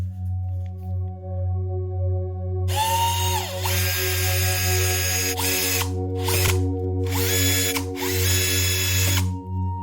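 Power drill boring into the housing of a 35-year-old MZ TS 250/1 motorcycle engine on a workbench to remove shaft seals, several loud whining bursts with spin-up and stop between them over a constant low hum.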